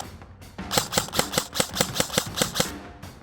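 An Arcturus Sport MKIII Carbine airsoft AEG firing in binary mode, about a dozen crisp mechanical shots in a quick, even rhythm, loud and close, with no talking over them.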